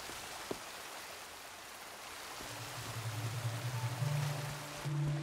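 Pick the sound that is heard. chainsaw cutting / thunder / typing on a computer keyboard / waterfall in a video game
waterfall in a video game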